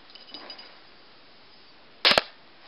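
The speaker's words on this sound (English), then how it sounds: "You can see it's a fairly effective blowgun." A blowgun dart fired at a dove decoy lands with a sharp, loud double-crack impact after a faint puff of the shot, with quiet background between.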